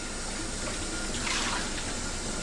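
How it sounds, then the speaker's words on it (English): Water pours steadily into a bowl in a home kitchen, a continuous close splashing and filling rush with no talking. "Get some water into this bowl."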